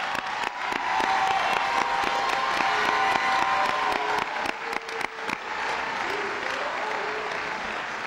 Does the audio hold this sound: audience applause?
yes